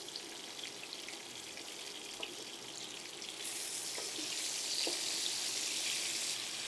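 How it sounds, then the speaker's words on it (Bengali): Vegetables fry in a pan with a continuous hissing sizzle that grows slightly louder midway, a few faint clinks over the steady noise and no talking. "একটু লাল লাল করে ভেজে নেবেন"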